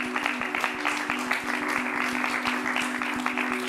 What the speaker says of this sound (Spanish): Un fuerte aplauso para Ramón Agraz